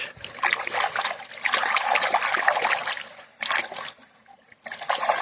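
Agate rocks rinsed under water outdoors, splashing and trickling close by in uneven bursts with a short lull near the end before the pouring resumes.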